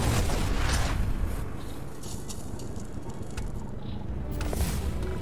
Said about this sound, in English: There's a very loud chopper above my house